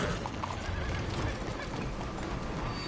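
A horse whinnies amid busy, continuous game-world noise and hoofbeats, loud and close throughout.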